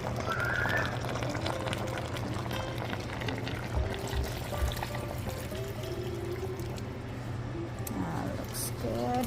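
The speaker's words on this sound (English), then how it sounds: "I'm gonna add some like 2 to 3 cups of water just to have enough soup for everybody" Water poured into a pot of chicken stew, a steady liquid splash running throughout with a low hum beneath and voices talking over it.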